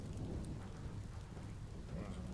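Rain pouring in the video game Biomutant, a dense continuous patter with a low rumbling undertone, heard alone without speech.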